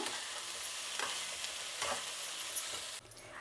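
Raw banana pieces stir-fried in a pan hiss with a soft, continuous sizzle, broken by a few scraping stirs of a spatula, and the sound drops away sharply near the end.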